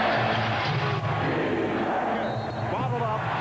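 Home crowd roaring at a 1996 NBA Finals Game 6, Chicago Bulls versus Seattle SuperSonics, a dense continuous arena din that stays loud throughout, with a commentator talking over it.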